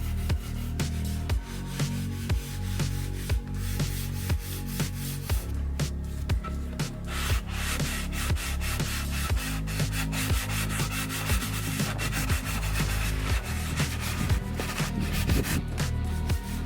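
Steady rhythmic rubbing of sandpaper on a wooden chair, repeated back-and-forth strokes, close and continuous with no talking.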